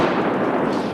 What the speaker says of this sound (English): people from all over the Mill Valley area have been hearing and feeling it as the bomb squad detonated these explosives